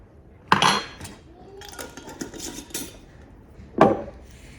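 A tablespoon scooping white sugar from a container, two sharp metal clinks with soft scraping and rustling between them, close and alone.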